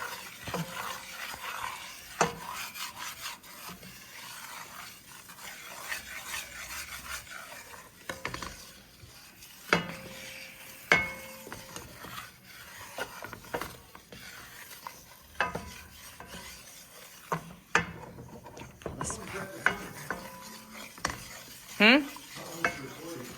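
A roux for gravy or gumbo stirred in a pan over lowered heat: irregular scraping and clinking of a utensil against the pan with a faint sizzle, close and fairly quiet.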